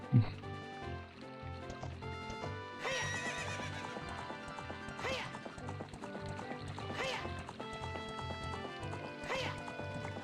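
Horse neighs and clip-clops in a Zelda video game, heard under game music and a person's voice, with hoofbeats repeating through the scene.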